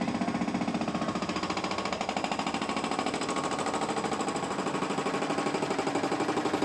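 An oversail block being hammered down to level on a railway platform at Dawlish station: rapid, continuous mechanical pounding, loud and close, without pause.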